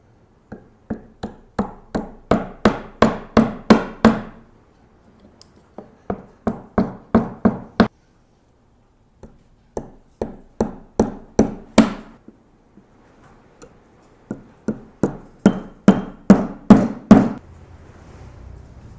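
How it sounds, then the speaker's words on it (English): Sharp trim-hammer taps setting small brad nails into an electric guitar body, struck in quick accelerating bursts of about eight to ten blows each, four groups separated by short pauses, close and crisp. "I'm just going to set these brad nails in with my trim hammer."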